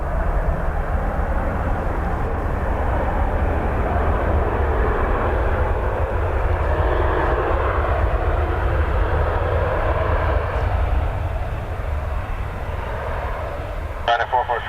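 A fixed-wing airliner landing at Dublin Airport in crosswinds, its engines a loud, steady broadband roar that fills the whole span without letup.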